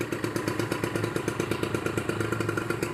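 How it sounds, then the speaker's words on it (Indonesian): A 2012 Kawasaki Ninja 150 RR two-stroke runs at a steady idle right at the exhaust after an electric start, its rapid, even pulsing burble loud and close with a faint clattery edge, no voices. "Untuk suaranya nih bisa dilihat, kita ke arah knalpot"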